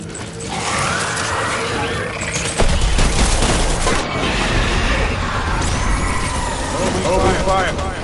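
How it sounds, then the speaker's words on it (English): Bursts of gunfire from the Death Stranding video game, a dense, loud mix of shots and mechanical clatter running through the whole stretch, with voices talking over the battle. "Open fire."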